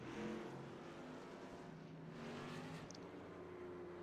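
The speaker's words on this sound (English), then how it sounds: "Good look at the iRacing pace car there" Pace car from the iRacing sim racing game at Concord in a modified series race, a steady engine drone running throughout at moderate distance without talk.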